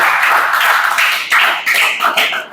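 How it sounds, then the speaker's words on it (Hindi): Loud hand clapping in a classroom-style session, a brisk, close burst of claps lasting a couple of seconds. "जोरदार ताली बजाओ जी।"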